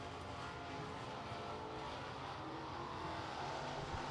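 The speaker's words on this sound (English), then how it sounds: "How about this for a final group of cars for hot lap qualifying?" Crown Victoria race cars run hot lap qualifying for the Renegade Sportsman class at Lancaster Motor Speedway. A faint, distant, continuous engine drone rises and falls as the cars circle the track.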